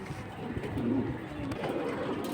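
Pigeons cooing at a Bengali pigeon market stall, among high-flying silver, khaki and other fancy breeds, with soft low coos rising and falling over a steady murmur of ambient noise.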